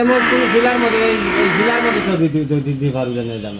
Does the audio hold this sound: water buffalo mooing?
yes